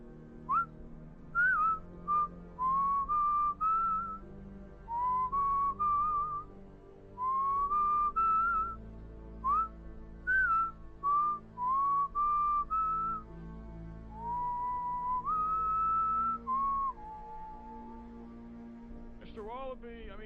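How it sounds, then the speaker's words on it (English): A person whistles a halting, melodic tune in short phrases with pauses between them, close and clear over a faint steady background hum. "let's give him a whistle"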